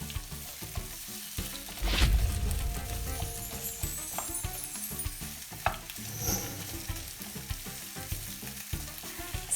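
Onions frying and being stirred in hot olive oil in a pan, a steady broad sizzle with scraping stir strokes rising and falling, fairly quiet and close, with no talk.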